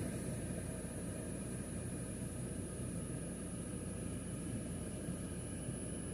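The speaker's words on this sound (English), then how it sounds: "Looks to me like we have a Piper Cherokee here. That's taxiing." Piper Cherokee light aircraft taxiing at Tucson International Airport, a steady droning engine rumble that stays continuous and fairly even throughout, with a faint high whine above it.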